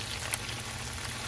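A boiled chicken drumstick fries in a pan, giving a steady, close sizzle with a fine crackling hiss and one brief pop, and no talking.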